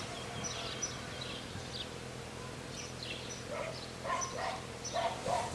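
Honeybees working a patch of phacelia beside a hive make a soft, steady buzzing that rises and falls, with individual bees passing close to the microphone now and then.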